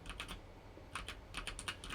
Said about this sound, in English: apologies if my keyboard is picking up